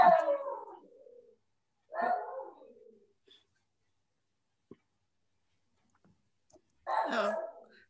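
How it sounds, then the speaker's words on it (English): A dog that is upset because a pest control worker is outside lets out three separate howling barks, each a few seconds apart, heard from some distance in an otherwise quiet room. "let the dog out and feed him. And he's upset right now because the bug guy's going around"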